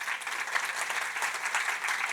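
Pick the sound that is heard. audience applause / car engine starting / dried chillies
audience applause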